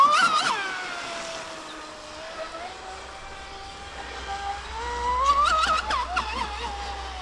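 Custom-built RC Pursuit SR boat with a TP 4080 brushless motor on 6S and a small prop, a high-pitched electric whine rising and falling as it speeds across a pond, swelling to loud passes near the start and end.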